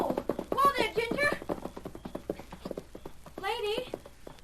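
A little girl's pony clip-clops along at a walk, its hooves striking in a steady, even rhythm that runs through the whole stretch, with voices speaking over the hoofbeats at the start and again near the end.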